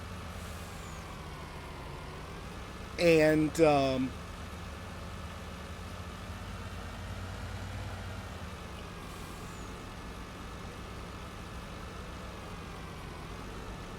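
A truck engine in Farming Simulator 19 runs steadily as a low, constant drone throughout, with a brief louder burst of voice and engine change near the start before settling back to an even idle.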